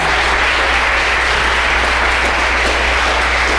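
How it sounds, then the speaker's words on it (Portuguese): Loud, continuous applause from a large church congregation, steady and dense throughout with no pauses. "E se você crê nisso, aplaude ao Senhor."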